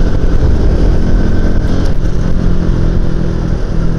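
A Honda Click 130i scooter-style motorcycle engine runs steadily and loudly up close, with a rough, continuous drone and some clatter while the bike is being ridden.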